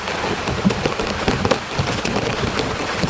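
Steady rain pours down, a dense continuous hiss with scattered drops pattering close by on a surface.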